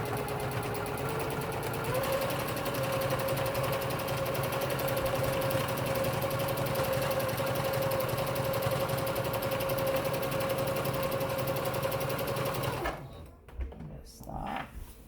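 A sewing machine runs in one long steady burst while hemming a cotton pillow case, its motor hum and rapid needle rhythm continuous and close for about thirteen seconds before stopping, followed by faint handling noises.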